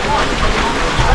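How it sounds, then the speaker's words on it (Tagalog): Sudden heavy rain pours down outdoors, a dense, steady hiss of drops striking surfaces, loud and close, with a voice faintly present. "Biglang bumagsak ng ulan."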